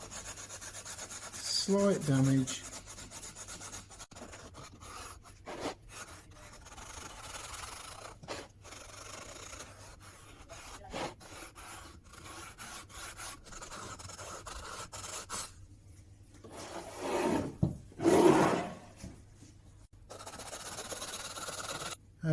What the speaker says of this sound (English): you'll get used to sanding it without touching the glass